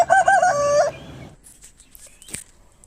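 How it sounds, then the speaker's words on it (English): A rooster crows loudly and close in one drawn-out call, followed by quieter scattered clicks and rustles. "Cocorco rooster."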